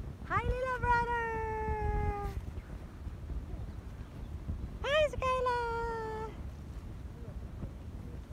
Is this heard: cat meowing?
yes